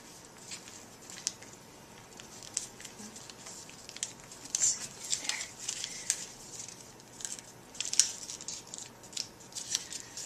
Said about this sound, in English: So you fold again a kite shape into the paper.